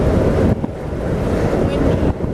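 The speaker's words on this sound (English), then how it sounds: "Windy." Strong wind blowing outdoors around a 2013 Jeep Wrangler JKU, loud gusty buffeting roaring across the microphone with a brief dip then rising again.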